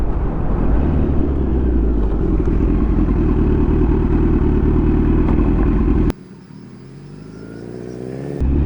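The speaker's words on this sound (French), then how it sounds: "La petite moto dans la prairie." A small motorcycle rides steadily through a meadow, its engine droning loud and close, then the tone drops abruptly and the revs climb again near the end.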